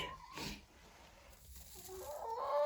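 A hen clucks and sings after laying eggs in a home coop, with a short loud squawk early on and a rising, drawn-out cackle near the end over rustling background noise.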